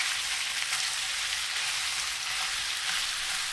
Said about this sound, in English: sear them over high heat for 4 minutes